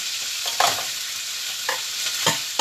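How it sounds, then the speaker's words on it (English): Seafood shells, including pink claws, cook in hot oil with a steady close sizzle, broken by occasional stirring scrapes and clatters. "And they are going in the oil. We're not frying them."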